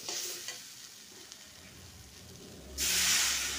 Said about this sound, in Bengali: একটু জল দিয়ে দিলাম মশলাটা কষার জন্য